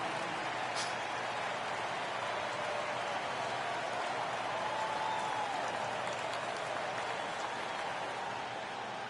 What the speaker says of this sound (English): The home fans cheering for MP, who now stands alone as the single-season record holder for total points.